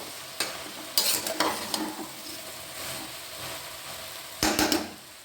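A spoon stirs cauliflower ghugni in a pan with ginger paste and Kashmiri chilli powder, giving a few sharp scrapes and clatters over a soft, steady sizzle, with no talking.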